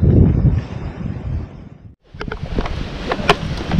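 Strong gusting wind roars across an open hilltop, buffeting the microphone with heavy low rumble, easing briefly to near silence before another gust returns.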